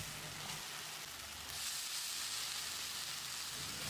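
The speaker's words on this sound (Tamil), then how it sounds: "காளானை போட்டு 1-2 நிமிஷம் நல்லா ஃப்ரை பண்ணி விடணும்." Mushrooms, about 200 grams cut into small pieces, sizzle and fry in a masala for a chapati gravy in a pan, a steady close hiss that swells slightly partway through, with no talking.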